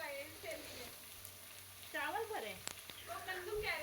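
Boiled chicken and chopped vegetables frying with garlic ginger paste in a home kitchen during Ramadan, a quiet continuous sizzle with faint stirring, while a voice talks over it.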